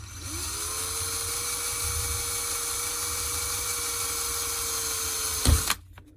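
A small electric drill bores slowly through a fragile seashell, a steady whining hum close by and alone for about five seconds, then a brief clunk as the bit backs out and the motor stops.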